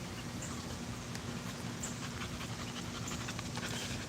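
A dog pants in quick, rhythmic breaths close by, soft and steady under a low background hum, with no talking.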